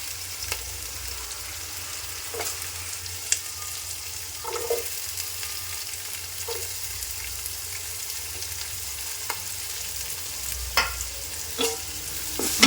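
Onions frying in a pan for a coconut-milk mutton roast, a low steady sizzle with occasional scrape-like stirring clicks, no talk.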